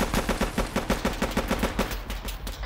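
Rapid bursts of automatic gunfire in a video game, about a dozen evenly spaced shots in quick rhythm, loud and close, then trailing off into fainter scattered shots.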